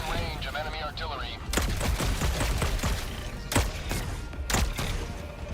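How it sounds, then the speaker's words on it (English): Enemy artillery in the Helldivers 2 video game, heard as several sharp, loud blasts and thuds over a continuous bed of combat noise, with the game's announcer voice heard early on. "Warning, you are in range of enemy artillery."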